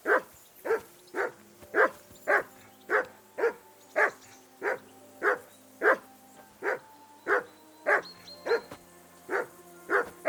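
A dog barks steadily in Kingdom Come: Deliverance II, around twenty evenly spaced, loud, close barks with a faint tonal game background beneath them.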